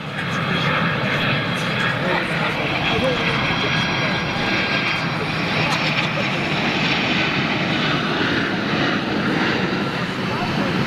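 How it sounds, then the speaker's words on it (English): A United Airlines Boeing 767 with winglets and CF6 engines roars loudly at London Heathrow, a broad steady jet rumble filling the whole stretch, with a voice talking over it. "767 Smokey Joe from United, Avec winglets. CF6 power, or is it 4000s?"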